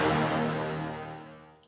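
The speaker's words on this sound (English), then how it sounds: "let's take the horn stab and the crash that sound like" Horn stab sample with a crash cymbal from a hybrid trap production, one loud brassy hit with a bright cymbal wash that decays steadily over about a second and a half, ending with a faint short tick.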